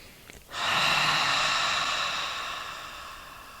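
A single long, deep breath is taken during yoga practice: a close, loud, airy rush that starts suddenly and then fades slowly over about three seconds.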